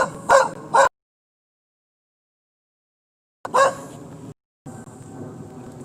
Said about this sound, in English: some dogs I think that's a Jack Russell, is it? I'm not an expert on dogs, but I know that some of them yap.